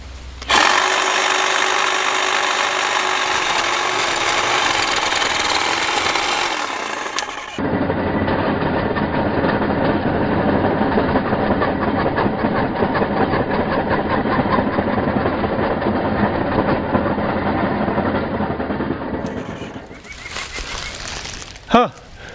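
DeWalt pole hedge trimmer cutting into a tree trunk about an inch thick, a continuous buzzing, rattling motor and blade chatter that changes in tone as the cut goes on, close and loud until it stops near the end.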